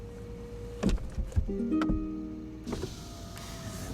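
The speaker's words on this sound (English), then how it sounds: "it rolls up all the windows for you." Electric windows on a 2020 Rolls-Royce Dawn Black Badge convertible rise with a steady motor whine. A few soft clunks come first, and the whine ends in a seal thump, quiet and close inside the car.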